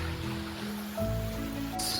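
A small stream beside farmland flows with a steady broadband wash of water, fairly close and continuous, with a few faint tonal sounds over it.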